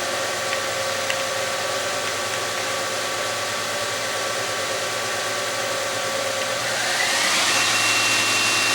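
A Fadal VMC-4020 CNC mill spindle runs steadily at 1,000 RPM with a constant whine and broadband hum. Near the end it shifts, with a rising tone as the speed begins to change.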